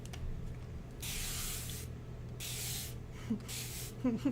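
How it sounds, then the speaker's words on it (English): Three short bursts of water sprayed from a spray bottle onto Inktense paint, each a soft hiss lasting about a second, close by, with a steady low hum and faint movement beneath. "I'm gonna spray."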